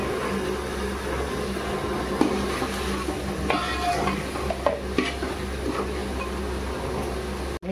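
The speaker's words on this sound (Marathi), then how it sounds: "मस्तपैकी आपल्याला भाजून घ्यायचे। कांदा लालसर होईपर्यंत भाजायचे।" Chili and peanuts, with onion, sizzle and get stirred in a hot pan while frying for kande pohe. A steady frying hiss runs throughout, with a few scraping stir sounds in the middle.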